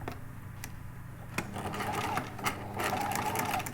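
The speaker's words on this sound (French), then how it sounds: "vous pouvez coudre l'étiquette" A sewing machine stitches a label onto a felt hat brim, whirring in quick bursts with brief pauses between runs, steady and close.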